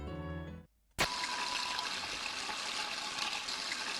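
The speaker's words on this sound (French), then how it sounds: "C'est le lavabo, voulez-vous ouvrir le robinet?" A bathroom sink faucet in the Deltarune video game turns on after a short silence and runs with a steady, fairly loud rushing water sound until the end.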